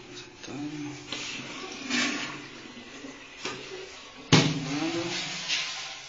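Toilet in a newly handed-over house bathroom flushing, a muffled rushing of water with a few knocks and a sharper thud partway through, heard faintly at a moderate distance.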